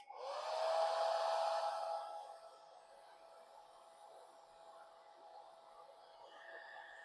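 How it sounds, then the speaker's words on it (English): A hair dryer whirs up loudly for a couple of seconds, then drops to a lower, steady hum on low speed that continues to the end, drying wet paint on a painting. "I'm going to use my blow dryer, dry this off a bit"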